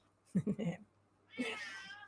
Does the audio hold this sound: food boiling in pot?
no